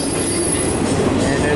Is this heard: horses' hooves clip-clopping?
no